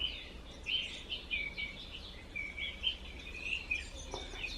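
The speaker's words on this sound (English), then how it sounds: "Did you hear the birds?" Several birds chirp and tweet outdoors in short, high, repeated calls, fairly faint and spread across the whole stretch, with a quiet background and no talking.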